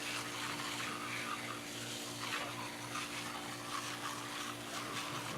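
Freshly planted seed trays of lettuce, kale, onion and cabbage being watered, a steady close shower of water pattering and gushing evenly without pause, no voices.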